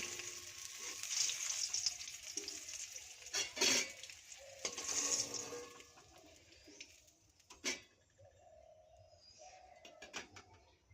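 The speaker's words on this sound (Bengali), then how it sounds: "ডিমগুলো হালকা লাল লাল করে ভেজে নিয়েছি" Boiled eggs fry in hot oil in a pan for a Bengali egg and potato curry. A faint, close sizzle runs throughout, broken by a few sharp clinks and scrapes of stirring against the pan.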